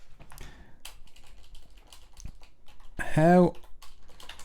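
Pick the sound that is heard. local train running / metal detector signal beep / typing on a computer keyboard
typing on a computer keyboard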